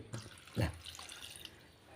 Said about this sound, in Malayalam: ഇതാ തേങ്ങാപ്പാലാണ് ഇത് ഒഴിക്കാൻ പോണത്